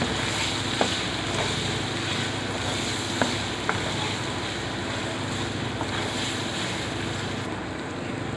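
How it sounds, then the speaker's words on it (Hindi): Chicken fries with ginger garlic paste for a lemon karahi, a steady loud broadband sizzle that lasts throughout with only faint scattered crackles and no talking. "अब इसमें मैं डालती हूँ अदरक लहसुन का पेस्ट। ये चला गया जी अदरक लहसुन का पेस्ट। अब इसको हम थोड़ा सा फ्राई करेंगे।"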